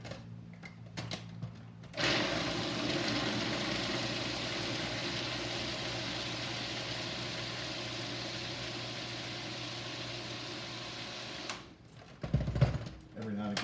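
A food processor runs steadily for about ten seconds, blending a chickpea falafel mixture. The motor gives a constant whirring hum with a grinding texture. Brief handling noises come before and after, and a voice talks faintly at the edges.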